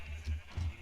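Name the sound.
sheep bleating in video game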